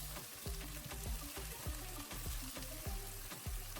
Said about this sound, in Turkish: Daha sonra içerisine soğanları, biberi ve sarımsakları koyup biraz soteliyorum.